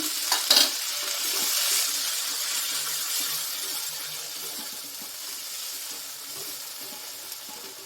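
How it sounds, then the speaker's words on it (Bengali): Tomato and a little water go into a hot pan for paneer pasanda, with a sharp sizzle and a brief burst of splashing near the start, then a steady frying hiss with light stirring scrapes, close and continuous. "দিয়ে দিচ্ছি টমেটো। অল্প একটুখানি দিয়ে দিচ্ছি জল।"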